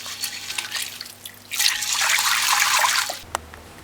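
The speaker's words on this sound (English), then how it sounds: "but it won't hurt to wash it." Red peas are swished and rinsed by hand in a bowl of water for Jamaican stew peas, close dripping and trickling that swells into a sustained splashing wash before ending in a few drips.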